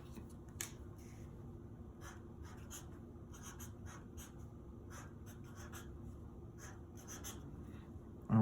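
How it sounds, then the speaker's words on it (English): Pencil or pen on paper writing out musical beats, a run of quick, faint scratchy strokes and light taps in uneven bursts over a low room hum, with no voices. "we're going to write in our beats"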